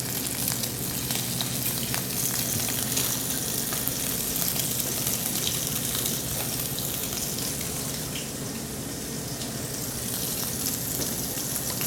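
Scallops sear in a hot pan with a loud, continuous sizzle that holds steady with no talking.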